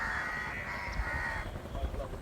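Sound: crows cawing at fort ruins

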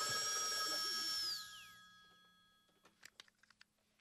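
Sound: telephone ringing

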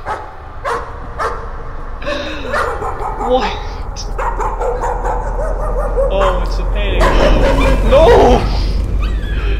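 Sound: dog barking in a video game

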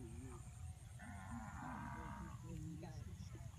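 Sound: cow mooing

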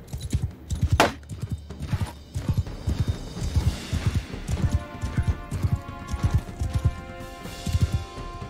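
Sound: horse galloping hooves in the video game Mount & Blade 2 Bannerlord

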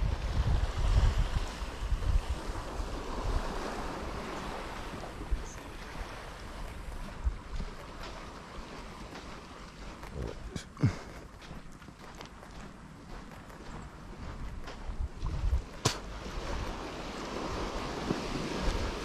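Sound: waves on the beach of M'gouja, Mayotte

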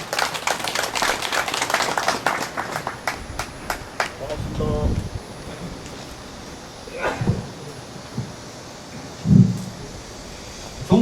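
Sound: audience applause welcoming a speaker

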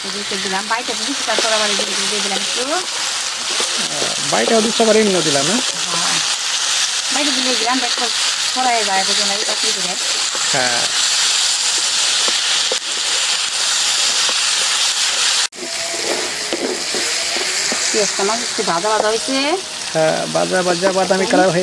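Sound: ginger and spice paste frying in a pan

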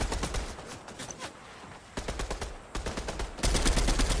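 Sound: gunfire in the video game Fortnite

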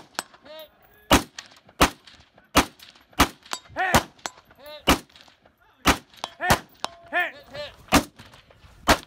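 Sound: rifle gunshots at shooting range targets

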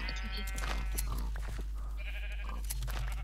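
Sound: sheep bleating in Minecraft, a video game

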